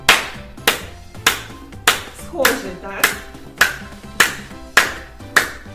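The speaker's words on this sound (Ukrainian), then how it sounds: "бубон ми з вами будемо плескати в долоні" Hands clap in a steady, even beat in place of a tambourine during a children's body-percussion orchestra lesson. There are about nine crisp, close claps at regular intervals, and someone briefly speaks between them.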